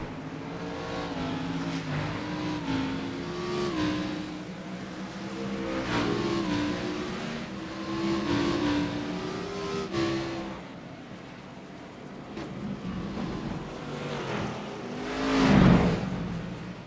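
Race cars at Daytona roll off pit road behind the pace car for the Grand National 200, a steady layered engine drone with rising revs and a louder surge as cars pass close near the end.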